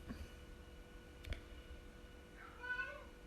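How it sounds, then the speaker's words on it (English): A house cat meows to be let outside: one faint, rising meow near the end, preceded by a soft click, in an otherwise quiet indoor room. "If you can hear a cat meowing,"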